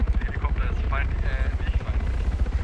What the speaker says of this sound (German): Helikopter ist